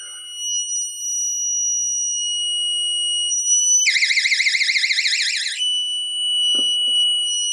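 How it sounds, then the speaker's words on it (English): A steady high electronic tone hums, then a cheap window alarm used as a water leak detector blares a loud warble for nearly two seconds before cutting back to the steady tone, with a brief clatter afterward. "see if that sets the alarm off"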